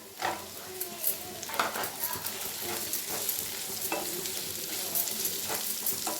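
Onions fry with ground masala in a pan for a Tamil egg roast, a close steady sizzle broken by repeated stirring scrapes and spoon clinks against the metal pan, no voices heard.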